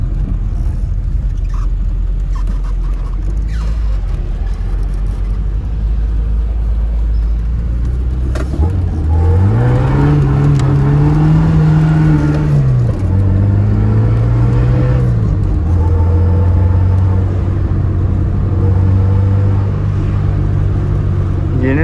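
A Tofaş car drifting sideways on new tires across white ground in an industrial area, its engine revving up and easing off loudly and close, with a steady low rumble throughout.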